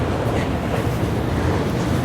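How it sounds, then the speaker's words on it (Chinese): Russian railway freight wagons rolling past in a border city, a loud, steady low rumble of rolling stock that fills the whole stretch without clear clacks, and no speech. "这都是俄罗斯的车皮哈"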